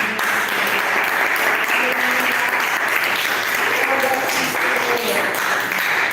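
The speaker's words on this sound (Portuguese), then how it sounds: "Dá uma salva de palmas para Jesus" A church congregation claps in steady, sustained applause for Jesus during a sermon, a dense wash of many hands filling the room without pause, with faint voices and cheers mixed into the crowd.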